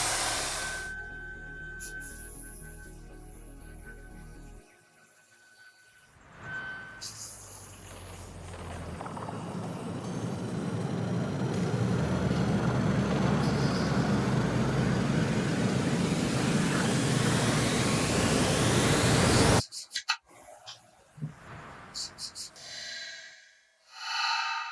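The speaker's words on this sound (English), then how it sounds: "Now it's time to use the sander to round off the exhaust nozzle." A power sander rounding off a wooden exhaust nozzle on a handmade wooden spaceplane model, a steady loud whirring grind lasting about fifteen seconds, then cutting off, with quieter workshop handling before and after.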